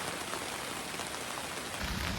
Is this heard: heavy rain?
yes